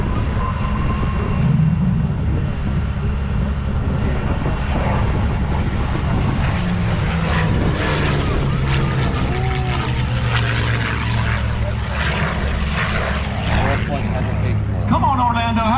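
A North American P-51 Mustang named Quicksilver flies past at an Orlando air show, its propeller engine droning loudly and continuously with shifting pitch as it passes, and crowd noise and chatter mixed in underneath.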